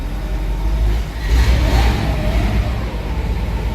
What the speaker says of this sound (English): Here the engine, like I said, runs smoothly.